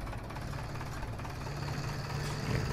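A forestry tractor engine idles steadily in the video game Farming Simulator 17, a low droning hum with a constant rumble and slight rise near the end.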